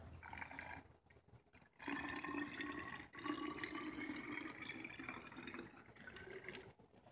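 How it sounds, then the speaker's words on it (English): Water is poured from a cup into a toy rocket body with citric acid inside, giving a faint, uneven trickling and filling sound with short pauses. "Then add 3/4 cup of water."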